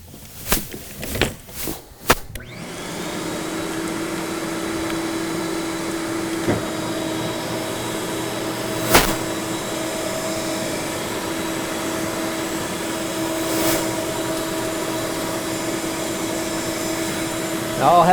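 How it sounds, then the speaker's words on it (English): A NaceCare Twintec TT1120 walk-behind auto scrubber has its vacuum switched on after a few clicks, then runs as a steady, loud whine with a low motor hum, alongside occasional small knocks. "So now we'll engage the vacuum."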